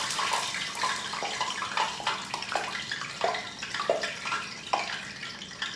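Water hits hot frying oil in a pan while cooking bean and cheese taquitos, producing a loud, steady crackling sizzle with repeated sharp popping bursts throughout.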